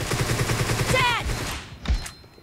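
Rapid gunfire bursts from a PUBG Mobile team deathmatch fight, loud and close with a dense rattling rhythm, a whizzing tone in the middle and a heavy single shot near the end, amid game noise and voices.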